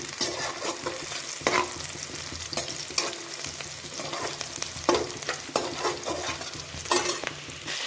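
Onions frying in a pan with a pinch of asafoetida for a Punjabi-style tadka, a steady close sizzle broken every second or so by scraping stirs, with no talking.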